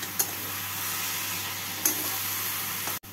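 Chopped ridge gourd mixed with poppy seed paste is stirred in a pan over a soft, steady sizzle, with a couple of louder scrapes and a low hum underneath.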